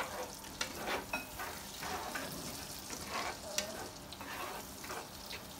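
Garlic and onions sauté in a pan, a soft continuous sizzle broken by irregular scrapes and clicks of stirring, fairly quiet and close.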